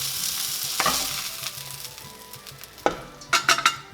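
Sausages sizzling in a frying pan, a steady close crackle and spit with a few sharp metallic clinks of a utensil stirring against the pan, no voices.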